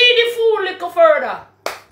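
A voice speaks, then two sharp, close hand claps follow in quick succession.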